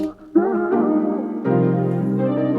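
A synth lead melody plays over a beat, sustained notes shifting in pitch, loud and upfront, with the texture thickening partway through.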